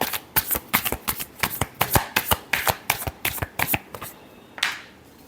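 Tarot cards shuffled by hand: a rapid series of sharp riffling bursts in uneven rhythm, close and crisp, followed by a pause and one last louder riffle.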